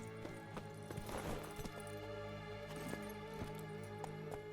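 Horse hooves from The Witcher 3: Wild Hunt clip-clop in an irregular trot over a steady electronic hum, quiet and somewhat distant, with a brief whoosh early on.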